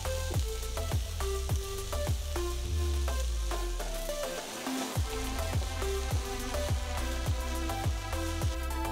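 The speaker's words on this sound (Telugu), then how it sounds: "కట్ చేసి పెట్టుకున్న అక్రూట్లని వేసి 5 నిమిషాలు వేయించాలి." Chopped walnuts frying in a pan for vegetable paneer rolls, giving a steady close sizzle with regular stirring clinks and scrapes and no voices.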